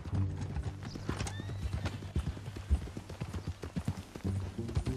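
Horse hooves clip-clopping at a steady walk in Red Dead Redemption 2, close and continuous, with a brief whinny and faint ambient game sounds underneath.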